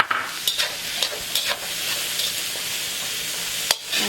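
Shrimp frying in a hot pan for a vegetable stir fry, a loud, steady close sizzle with a few sharp clinks of a utensil stirring.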